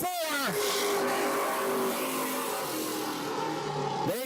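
Race cars roar around an oval track at a Thursday night short-track event. Engines sweep past with a sharp Doppler rise and fall at the start and end, with a steady mid-distance drone between and a commentator talking over it.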